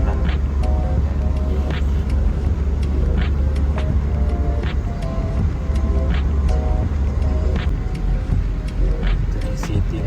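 Dense city traffic in Doha, Qatar, makes a continuous road rumble with passing cars and repeated higher engine whines, all heard from inside a moving vehicle. A voice can be heard talking in the background.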